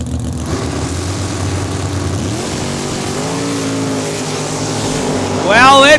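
Drag racing cars, a Mustang and a Hemi Dart, launch at Saskatchewan International Raceway, their loud engine roar sustained and rising in pitch through the run, with a commentator's voice partly over it.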